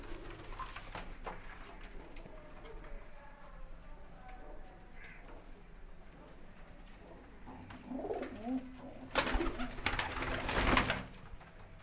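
High-flying pigeons offered for sale in Faisalabad coo softly at intervals against a low outdoor background, with louder rustling bursts near the end.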